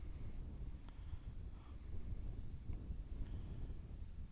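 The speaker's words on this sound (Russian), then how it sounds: "ветер начинается такой уже посерьезнее" Steady wind blowing outdoors on an open bay shore during early-spring fishing, a faint, continuous low rush with gusty texture and no talk.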